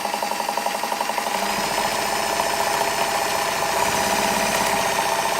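A Kenmore model 52 sewing machine runs at high speed, producing a continuous fast mechanical whir with rapid rhythmic clatter, close and steady throughout.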